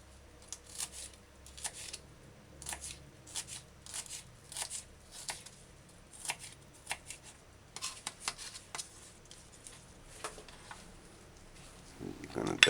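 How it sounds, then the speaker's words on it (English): A knife dicing sweet bell pepper on a cutting board, brisk bursts of sharp chopping taps in an irregular rhythm, close and clear, with a louder clatter at the end. "After that, dice sweet pepper or bell pepper or even paprika."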